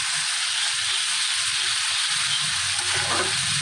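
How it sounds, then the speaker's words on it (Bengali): Pangash fish curry with ginger-garlic paste frying in a pan gives a loud, continuous close sizzle and hiss. Low stirring scrapes come through beneath it, and there is no talk. "তরকারিটা ভাজা ভাজা করছি আর কি, আদা রসুনটা যেন গন্ধ না লাগে"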